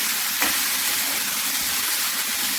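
Vegetables frying in oil for vegetarian khichuri with ginger and mung dal, a dense continuous sizzle and hiss that stays loud and even throughout, with no talking.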